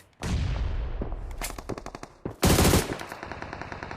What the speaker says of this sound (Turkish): silah seslerine bak